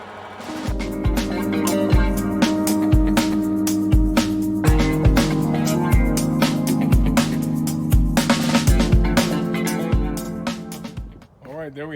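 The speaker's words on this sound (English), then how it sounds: "let's see if this old worn winch is gonna do it" An old, worn winch strains to lift a truck body off a 1969 W-31 frame, giving a loud, continuous droning whine with steady, rhythmic clunks that quicken toward the end before a brief stop.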